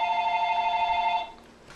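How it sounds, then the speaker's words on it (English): A telephone rings in a classroom during a chemistry lesson, a steady electronic warbling tone holding for about a second and a quarter before cutting off, with no talking over it. "The phone's just going to ring."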